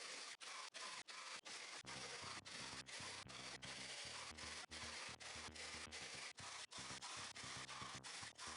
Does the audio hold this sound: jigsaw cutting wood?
yes